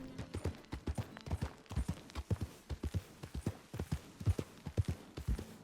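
Horse hooves clip-clopping on the ground in the video game Red Dead Redemption 2, a steady rhythmic gait of crisp, close hoofbeats that repeats without a break.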